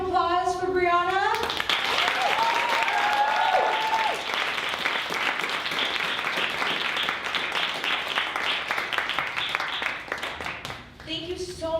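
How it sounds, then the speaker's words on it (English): A Sunday service audience breaks into loud, sustained applause and cheering that fills most of the moment, with a voice speaking briefly before the clapping begins and again as it fades out. "can we give one more round of applause for Bryanna?"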